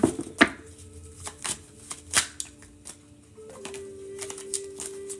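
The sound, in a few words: shuffling tarot cards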